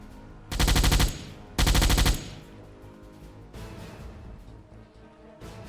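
Deck gun of the USS Balao submarine firing in a naval video game, two loud booming bursts in quick succession followed by a quieter rumbling background.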